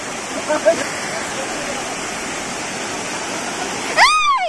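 Ghaghkocha Waterfall in Purulia roars as a steady, dense rush of falling water close by. Brief voices break in near the start, and a short whooshing sweep comes at the end.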